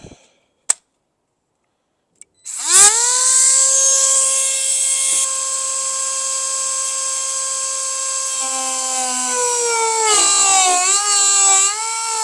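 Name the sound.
power tool cutting into Ford Mustang car body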